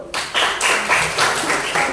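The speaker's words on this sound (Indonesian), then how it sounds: "Kasih tepuk tangan dulu" Students in a classroom clap together briefly, a few loose rhythmic bursts of hand claps close by in a short round of applause.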